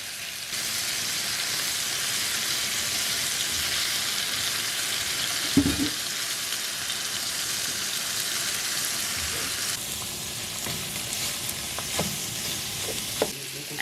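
Tiny dried shrimp stir-frying in a pan while being made into stir-fried Korean rice cakes, a steady sizzle throughout with occasional stirring clinks and scrapes, close and alone with no talking.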